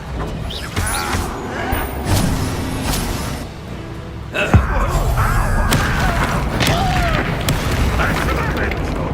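A Confringo fire spell blasts during combat in Hogwarts Legacy, giving a single sharp booming burst midway through, over dense rumbling battle noise with other effects and voices around it.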